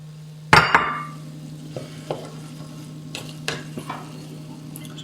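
Chorizo cooks in a creamy pumpkin risotto, opening with a sharp sizzling burst as it goes in, then a gentle simmer with scattered scraping stirs of a spoon against the pan, close and alone.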